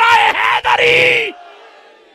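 A religious gathering's crowd roars the Naara-e-Haidari slogan in one loud, sustained collective shout lasting over a second, then it fades into a dwindling echo.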